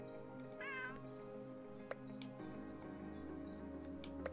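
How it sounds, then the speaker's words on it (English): A cat meows in the cozy video game Pan'orama, one short rising-falling meow early on over a quiet game backdrop with soft ticks and clicks. "There's a cat back here as well."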